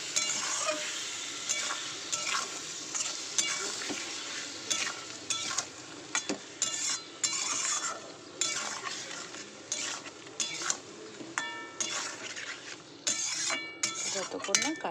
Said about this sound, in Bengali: চলো মশলাটা এবার ভালো করে আলুটার সঙ্গে কষাই।